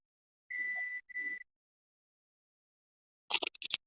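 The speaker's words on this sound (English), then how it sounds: "Sorry about the beeping. That's dinner." A kitchen appliance signals that dinner is ready with two clear electronic beeps, one long and one shorter, in an otherwise quiet room, followed later by a brief burst of voice.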